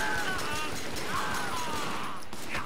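Rapid gunfire in the video game Triad Wars, a dense continuous fusillade of shots layered under game sound and some speech throughout.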